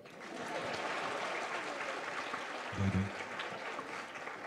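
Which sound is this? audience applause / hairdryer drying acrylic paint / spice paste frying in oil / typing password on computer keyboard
audience applause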